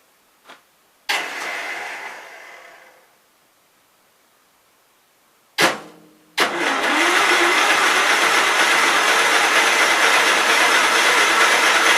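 A 1968 Gravely 430 tractor engine tries to start after the motor had been rolled on its side. Brief starter cranking is followed by a pause, then a short burst and a catch into a loud, steady running roar close by.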